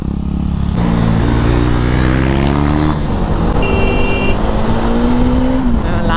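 A Bajaj Dominar and a KTM 390 motorcycle in a drag race, engines roaring loud and close with rising pitch through repeated gear shifts, one bike pulling higher near the end.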